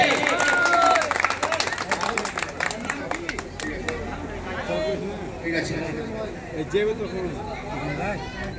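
Audience clapping at an award ceremony in a hotel, a brief patter of hand claps at the start that fades under crowd chatter and several talking voices.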